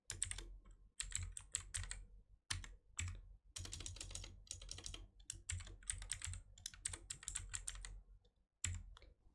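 Rapid bursts of keystrokes on a computer keyboard as a file name is typed, close and fairly crisp, coming in uneven clusters separated by short pauses, with no talking.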